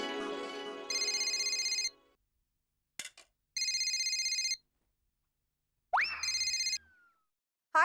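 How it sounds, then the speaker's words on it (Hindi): A telephone rings on an outgoing call in a sitcom scene, three short electronic ring bursts with pauses between, plus a brief click and a descending tone. "ये बबीता जी को फोन करके खुशखबरी दे देता हूँ कि पेमेंट मिल गया है।"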